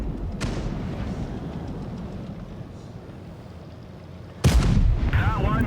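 A World of Tanks Blitz tank cannon fires with a heavy boom that decays into rumbling engine noise, then a second, louder blast lands near the end, followed by whirring mechanical sounds.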